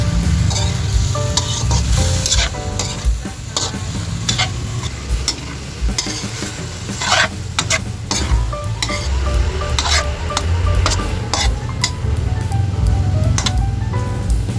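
Chicken liver sizzles loudly in a hot pan, with a steady frying hiss and occasional scrapes and clinks of stirring, and no talking.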